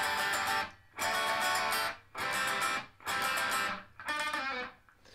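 Electric guitar playing a song intro: three loud, clipped strummed chord bursts separated by brief gaps, then a quick single-note lick, with no voices.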